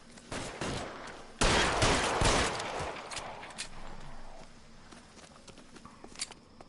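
Gunfire in the L.A. Noire video game: a scattered volley of sharp shots, loudest in a dense burst early on, then thinning to sporadic distant cracks.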